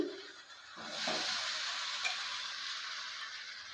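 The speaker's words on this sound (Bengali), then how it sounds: "লাউটা দেওয়ার পর ভালো করে নেড়ে চেড়ে নিচ্ছি" Fried bottle gourd stirred into fish curry masala in a pan, a soft continuous sizzle with a few faint scrapes and light clinks of the spoon, quiet and fairly close, no talk.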